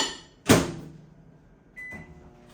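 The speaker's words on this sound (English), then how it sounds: "These are frozen, so I gotta put these in the microwave for 30 seconds." A microwave oven heating frozen food: a sharp clunk of the door or button, a low running hum, then a short electronic beep and another click near the end.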